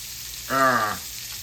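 Liver browning in a pan gives a steady close sizzle. Midway a brief tonal squeal rises over it, then fades back to the frying hiss.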